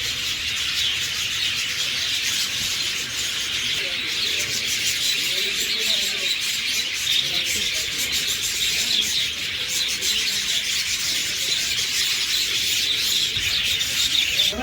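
Lovebirds kept in a cage at a sand sculpture museum in Mysuru make a dense, continuous chatter of tiny high chirps and scratchy twitters. The sound stays steady and fairly close throughout, with no clear breaks.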